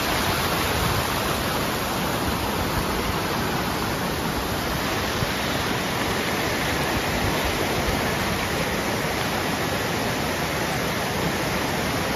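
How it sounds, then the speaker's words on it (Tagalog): Mountain stream water pours down near farmland in a loud, dense, unbroken rush, close to the microphone and drowning out everything else for the whole stretch. "Ito yung normal na tubig galing sa bundok."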